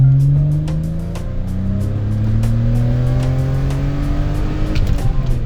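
A chip-tuned BMW E30 accelerates hard, its engine note rising steadily through the revs with a loud, close drone, then a brief shift near the end, with no talking.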